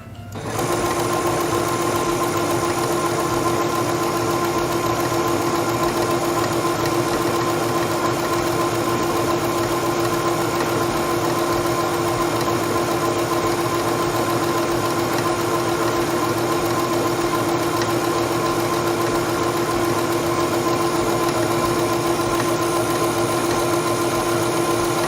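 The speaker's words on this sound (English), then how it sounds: "Place your fabric under the presser foot, lower the presser foot," A sewing machine runs steadily and loudly while stitching fabric for quilting, with a continuous even motor whir and a rapid needle rhythm that hold unbroken from just after the start to the end, with no talk.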